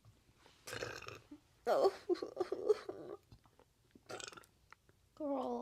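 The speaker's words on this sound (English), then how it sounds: "Oh my god, I have to burp again." A person lets out several close, drawn-out burps with short pauses between them, and a brief spoken exclamation comes in among them.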